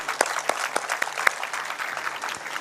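Audience applause at the Karachi Literature Festival 2012 inauguration, a full, steady round of clapping from a large crowd with distinct sharp claps popping out at irregular intervals.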